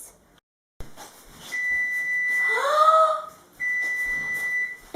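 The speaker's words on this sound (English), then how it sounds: "the timer just dinged, and that means that my apple pie is ready" A kitchen oven timer beeps with a steady, sustained electronic tone, sounding twice with a short gap between, near and clear while an apple pie finishes baking.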